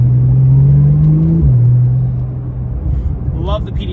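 A Porsche-style PDK gearbox in sport mode: a loud, close engine drone holds steady, then steps down in pitch as the car downshifts, then falls to a rougher rumble. A voice talks partway through.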